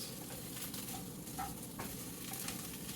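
Potatoes and eggs frying in a pan for a spicy meal-prep dish, a faint continuous sizzle with a couple of soft stirring scrapes, quiet and close.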